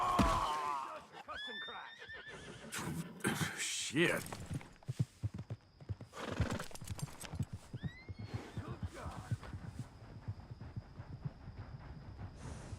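Horses in Red Dead Redemption 2 whinny loudly and repeatedly, mixed with clip-clopping hooves and occasional voices, the neighs standing out sharply near the start and again midway.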